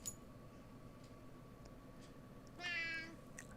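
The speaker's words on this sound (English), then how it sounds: "It's close to my cat's dinner time, so he's freaking out" A cat meows briefly at moderate distance as its dinner time approaches, a single short cry standing out over a low steady hum of game background sound.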